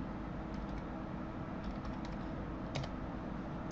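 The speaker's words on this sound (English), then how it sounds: "let's type in" Typing on a computer keyboard during design work, a few faint, scattered key taps over a steady background hum, with no voices.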